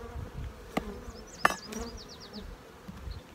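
Honey bees in a packed hive box full of nectar during cold-weather split work, giving a steady low hum with a few brief louder thumps and buzzes close by.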